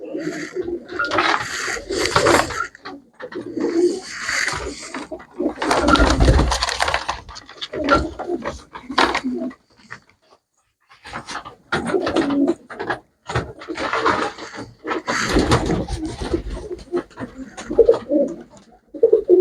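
Pigeons coo close by in repeated throaty bursts, with brief pauses between groups of calls and a few faint background knocks.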